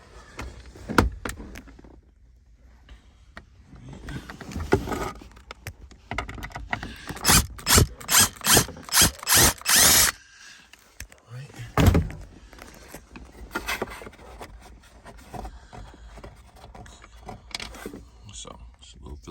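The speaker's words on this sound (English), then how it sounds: "the first step is to unloosen this Phillips head screw that's right beside the ashtray" Ratchet loosening a Phillips head screw beside the ashtray on a 2002-2007 Jeep Liberty dash: a quick run of rhythmic clicking close by, with talk and handling noises before and after.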